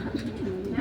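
Low, soft cooing of racing pigeons rumbles steadily through a short stretch, close by, with a faint murmur of activity in the background, in Santa Rosa, Laguna.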